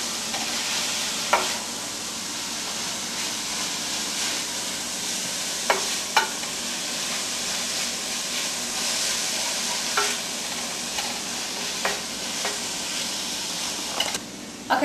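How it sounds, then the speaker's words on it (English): A spicy frikadel ground beef mixture sautés in a pan with a continuous hissing sizzle, punctuated now and then by the scrape and clack of a utensil stirring against the pan. "This has been sauteing for like 3 minutes."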